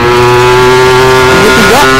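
Loud, close motorcycle engine fitted with a TM 32 carburetor, on a Ninja RR, revving hard while climbing a hill, a steady high drone that rises and wavers in pitch near the end.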